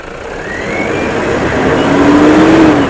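A 2011 four-wheel-drive Toyota Fortuner revs up loudly nearby, the engine note climbing and swelling in one sustained pull over steady background rumble.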